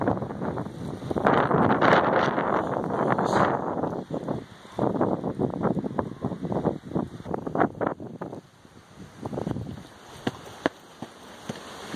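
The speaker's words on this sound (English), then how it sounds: "know it's a little windy." Gusts of wind buffet the microphone on a windy day outdoors in gardens, loud blustery roaring in uneven waves with a brief lull midway and choppy bursts toward the end.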